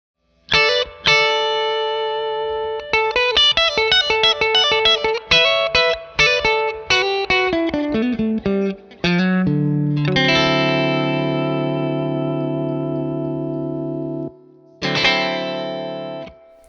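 Electric guitar through an Origin Effects Cali76 Stacked Compressor, wet signal only, heavily compressed and effected: plucked single notes and arpeggios, then sustained chords ringing out, with a final strummed chord.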